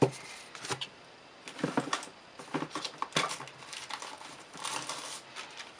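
Paper bags crinkle and rustle in short bursts while cards are packaged, close and moderately quiet, with pauses between handling sounds.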